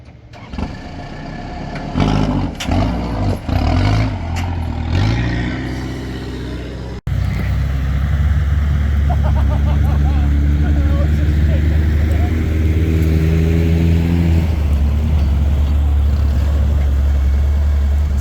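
A Kubota diesel-swapped Willys Jeep engine revs and labors steadily while doing donuts, a loud continuous low drone after a burst of choppy revving, with people talking over it early on.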